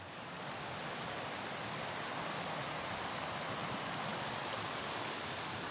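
Steady rushing of creek water running right beside a hiking trail by Cataract Creek in the Kananaskis area of the Rockies, a broad, even wash of flow heard alone at close range for the whole stretch.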